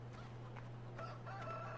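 Chickens on a farm in the video game Farming Simulator 2013 cluck and crow faintly in short scattered calls over a steady low hum.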